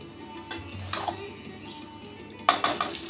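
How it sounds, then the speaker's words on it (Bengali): A spoon scrapes and clinks against a pan while chicken and potatoes are stirred and fried together, with a few sharp metallic knocks standing out over a low background hum. "এই সময় দিয়ে দিচ্ছি আলু। আর সব একসাথে কষিয়ে নেব।"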